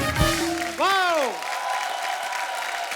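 A studio audience applauds for Farah Khan and Raveena Tandon on The Kapil Sharma Show, with crowd noise swelling behind a voice that talks loudly over the start before the clapping settles into a steady wash.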